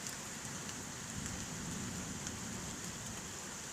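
Constant heavy rainfall from an electrical thunderstorm in Carpentras, France, pours down in an even, unbroken hiss, moderately loud and steady from start to finish.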